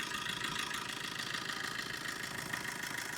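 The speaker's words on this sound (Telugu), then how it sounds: "ఇంజిన్ బీటింగ్ కూడా ఎక్సలెంట్ ఉంది." A 2016 Tata Zest car engine idles steadily close by, a continuous even rumble with a light rhythmic beat and no voices.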